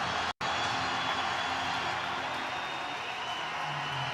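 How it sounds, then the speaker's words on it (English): A stadium crowd at a women's Six Nations rugby match in Le Mans, France versus Ireland, cheers and applauds in a steady, broad wash of noise that carries on without a break. "the two teams are ready to be greeted by this crowd"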